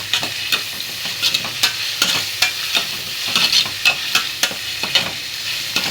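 Tomatoes sauté in a pan with a steady sizzle, broken by regular scraping strokes of a spoon stirring them, close and clear with no talking.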